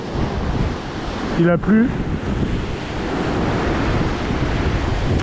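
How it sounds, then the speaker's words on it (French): Sea swell breaks on a rocky shore during December bass fishing, partly checked by a barrier just offshore, a steady broadband wash and roar with wind noise throughout and a brief voice near the middle. "Et les vagues, la houle elle est cassée un petit peu par la barrière qui est juste en face de moi"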